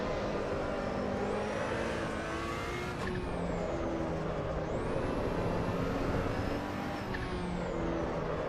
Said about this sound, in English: Oh my god, that turbo noise is sick.